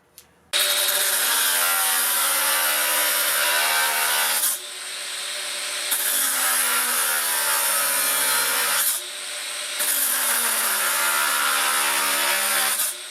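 A Makita GA038G 40V brushless 9-inch (230 mm) angle grinder cuts with a thin disc in three loud, whining bursts, each several seconds long, separated by brief dips as the disc eases off the work.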